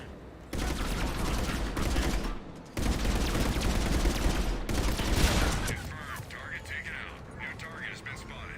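Gunfire from Mass Effect 3 multiplayer, dense bursts of rapid shots in loud blocks broken by brief silences, then easing into quieter scattered cracks and game effects, with a voice talking over part of it.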